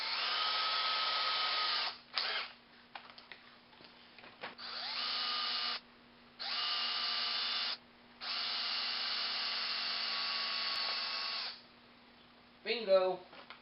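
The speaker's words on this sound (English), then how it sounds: "I got a 5/64 drill bit, and we're going to drill a hole" A small power drill with a 5/64-inch bit whines in several bursts of a few seconds each, drilling a hole in a Predator 212 mini bike engine throttle part, separated by brief pauses and light handling noises, ending with a short clatter.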